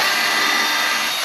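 A power drill bores a hole in a homemade Flemish twist bow string jig, a short, steady whirring burst lasting about a second before stopping abruptly, close and loud with no voices.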